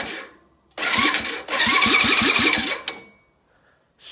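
A Honda CB750 motorcycle engine spun over on a bench under power, loud mechanical churning with a rapid rhythmic chug of about eight compression pulses, stopping briefly and resuming before cutting off, no voices.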